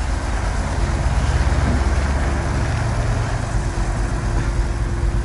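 A KAMAZ truck driving off, its engine and exhaust giving a loud, steady low rumble with a broad hiss of blowing exhaust, continuous and close throughout.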